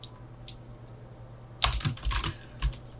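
Code is typed on a computer keyboard in a quiet room: after a silent pause comes a short, close burst of crisp keystrokes, followed by a couple of isolated taps.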